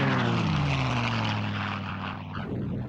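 A P-51 Mustang fitted with a Rolls-Royce Merlin engine drones past, a loud steady propeller roar whose pitch slowly drops as it moves away.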